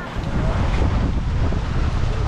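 Strong wind on the Marilaque Highway in the Philippines roars steadily across the microphone, a loud continuous rush with a low rumble and no pauses.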